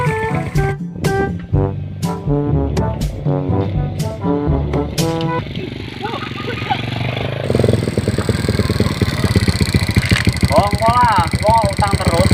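A motorcycle engine idles, then rumbles and revs in a steady pulsing throb, fairly close, mixed with other sounds and voice-like sounds in the second half.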